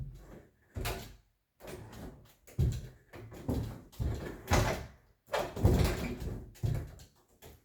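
A sliding closet door on a replacement roller track rolls back and forth in repeated bursts of rumbling and scraping, close by, with short pauses between pushes.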